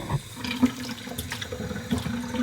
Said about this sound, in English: Now we're gonna add in a little bit of hot water.